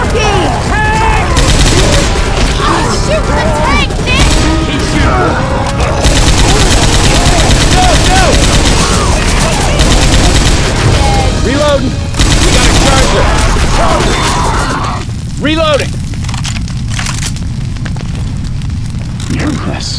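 Loud, continuous automatic gunfire and bursts fill a chaotic video game firefight against a tank, with shouting voices layered over the shooting, easing slightly near the end.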